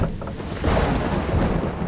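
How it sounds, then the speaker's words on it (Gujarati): Rumbling thunder from a lightning storm in a Gujarati horror video game, a low continuous roll with a swell about halfway through, heard alone without voices. "વીજળી જો દે દનાદન ચમકે છે"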